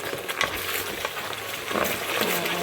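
Chopped garlic frying in a pan for a Sylheti satkora pickle, a soft, continuous sizzle with light scraping and stirring bursts, fairly quiet and close, with no talking.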